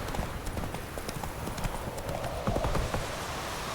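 Roach, a horse in The Witcher 3: Wild Hunt, gallops with quick, rhythmic hoofbeats. The clip-clop runs steadily and evenly from start to finish at moderate loudness.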